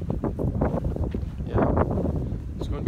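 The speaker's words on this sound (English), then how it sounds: "Yes, it's a windy day." Gusts of wind on a windy day buffet an outdoor microphone beside a dog run pen under construction. The rumbling bursts are steady and close, with low roaring swells that rise and fall for the whole stretch.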